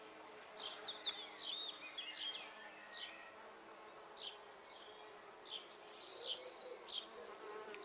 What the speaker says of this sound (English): the bumblebees on the comfrey